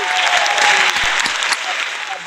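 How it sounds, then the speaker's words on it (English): A studio audience applauds a comedian being welcomed onto a home-edition comedy show, a loud, dense wash of clapping and cheering that fills the moment and tapers slightly toward the end. "What a raucous applause"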